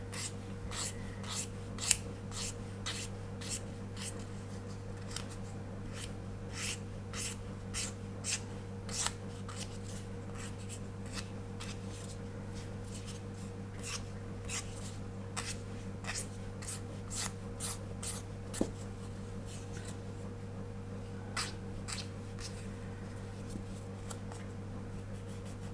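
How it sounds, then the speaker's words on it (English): Coarse 400 grit sandpaper worked over an MPC 1/24 General Lee model car, a quick run of close, dry rasping strokes in a steady back-and-forth rhythm over a constant low hum. "I'm gonna go in with fairly coarse grit to start with, a 400 grit"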